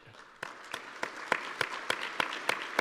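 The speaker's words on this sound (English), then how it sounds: "a round of applause for that" An audience at a keynote talk applauds, building from sparse claps into a fuller round with a few sharp, distinct nearby claps standing out over the crowd.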